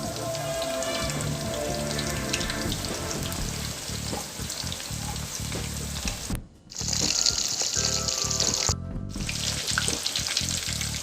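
Steady crackling sizzle of chicken pieces deep-frying in hot oil for Chinese chilli chicken, loud and close, continuous throughout with a brief dip partway.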